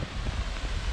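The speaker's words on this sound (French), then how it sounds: "Ça souffle bien sur les cimes." Wind gusts across snowy mountain peaks during a splitboard tour in the Vallon de Sestrière: a dense, continuous roar and buffeting, loud and close, with no voices.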